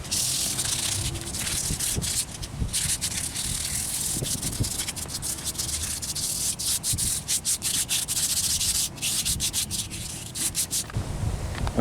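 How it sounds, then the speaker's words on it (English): Car body paint being sanded by hand, a continuous scratchy rubbing with rhythmic back-and-forth strokes, close and fairly steady, pausing briefly a few times. "now that I got it all sanded down properly"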